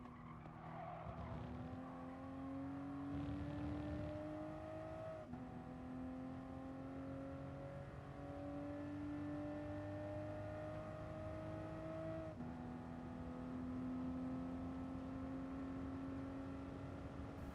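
Toyota GR Supra GT Cup race car in Gran Turismo Sport at Monza, its engine note climbing steadily through several upshifts, each rising whine dropping back before building again, loud and continuous with faint tire noise and no talk.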